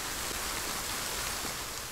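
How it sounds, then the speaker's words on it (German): Rain in the survival video game The Forest falls as a steady, even wash of hiss with no individual drops standing out and no voices over it. "Und es regnet wieder schön."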